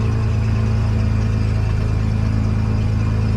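An Aerostar 700 aircraft engine runs steadily at 1,000 RPM during a ground check, a constant droning hum with no change in pitch or level, close and uninterrupted.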